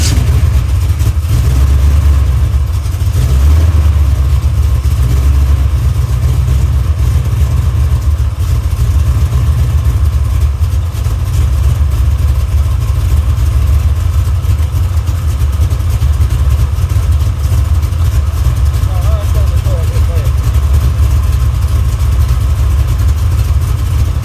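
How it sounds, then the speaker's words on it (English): A car engine runs at a steady idle, loud and close, with a deep continuous rumble and no voices. "how did I crank that car so fast?"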